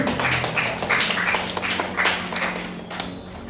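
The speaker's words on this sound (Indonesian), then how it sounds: "Kasih tepuk tangan untuk Ezi." A crowd claps together in steady, dense applause, fairly loud and continuous throughout, with no talking over it.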